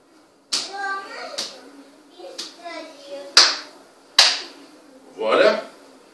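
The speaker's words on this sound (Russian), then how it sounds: "этими хлопками показал пациенту, что все, финал, мы закончили" Hands clap together several times to signal the end of a massage session, sharp close slaps spaced about a second apart, one a double clap, with a soft murmured voice in between.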